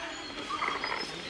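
A few birds perched together at Ranganathittu bird sanctuary give quick, faint, gobbling chatter, a short burst of calls heard from a little distance.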